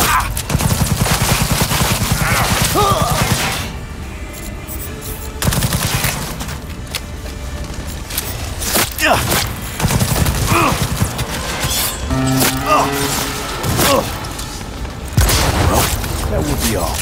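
Heavy gunfire in Cyberpunk 2077: sustained automatic bursts and booming shots with mechanical clatter, loud and close, repeatedly stopping and starting, with voices shouting over the fighting.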